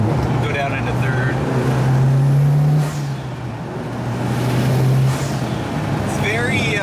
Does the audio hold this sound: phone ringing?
no